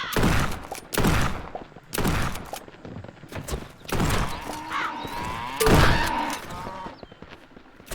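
Shotgun blasts boom in the video game Shotgun Farmers, a series of loud, sharp shots at irregular intervals with reverberating tails.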